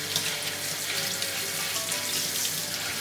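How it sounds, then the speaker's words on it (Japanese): Running tap water splashes steadily into a sink while fresh ginger is rinsed under it, a soft continuous hiss of flowing water with faint handling sounds and no talk. "土などが残らないようにきれいに洗います。"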